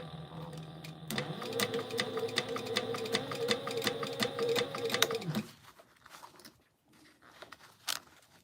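A sewing machine stitches a quarter-inch seam through quilt cotton with interfacing, running in a fast steady mechanical rattle for about four seconds, then stopping, followed by quiet handling noises, close up.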